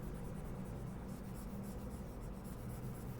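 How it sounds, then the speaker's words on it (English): Steady continuous rubbing of an eraser wiping writing off a board, close and even throughout with no pauses or talk. "So let's just erase it."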